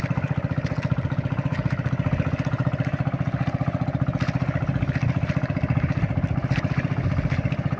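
Boat engine running unevenly with a fault, a steady rapid mechanical chugging and clatter that stays loud and close throughout, with no talk over it.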